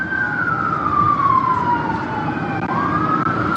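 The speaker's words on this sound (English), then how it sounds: "Sirens everywhere, police everywhere, guns everywhere." A police siren wails loud and close during a swatting incident, one long descending tone sweeping down over heavy rumbling noise.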